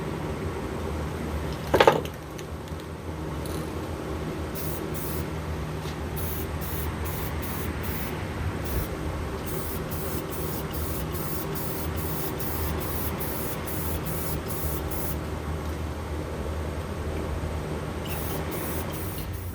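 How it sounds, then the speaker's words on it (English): A long continuous hiss of a Rust-Oleum semi-gloss clear coat aerosol can spraying barn beam pumpkins, steady and close, with a brief clatter near the start and faint ticking above. "we're going to clear coat them with Rust-Oleum semi-gloss spray clear coat."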